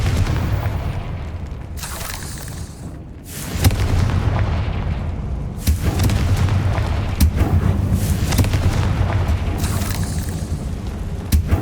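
Booming Confringo spell blasts from the video game Hogwarts Legacy, several heavy explosive bursts followed by a sustained rumbling roar with sharp cracks scattered through it.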